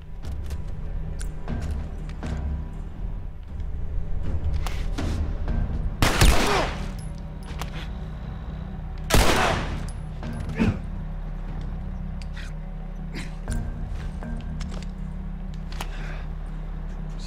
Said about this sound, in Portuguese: ele trocou tiro com o cara